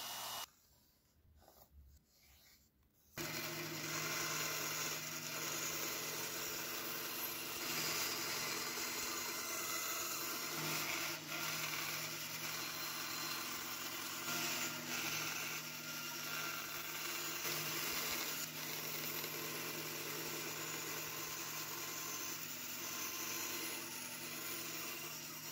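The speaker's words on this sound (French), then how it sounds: "Je me sers d'une des deux platines pour poncer les deux plaquettes au plus proche du profil du couteau." A power sander grinds the two handle scales of a folding knife down toward the knife's profile. After a few quiet seconds of handling it starts and runs as a steady, loud, even whirring roar for over twenty seconds.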